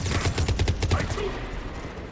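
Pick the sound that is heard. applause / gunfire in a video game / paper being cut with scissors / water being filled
gunfire in a video game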